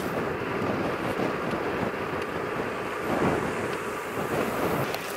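Wind buffeting a microphone during a gravel bike ride on a road section: a steady, close, rumbling roar of wind noise that swells slightly, with no voices.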